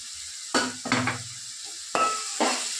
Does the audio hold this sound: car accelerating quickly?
no